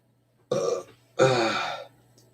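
Two loud, close burps come one after another, the first short and the second longer and drawn out, over a quiet background with a faint steady hum.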